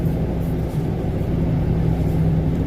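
A truck towing a trailer, with a troublesome gearbox, rumbles steadily as it is parked, its engine a loud, close, continuous low drone with no speech over it.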